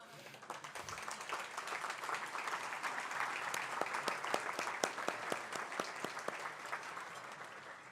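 An audience claps in sustained applause at an Export Day 2024 event, a dense, steady patter of many hands with louder individual claps standing out, moderately distant.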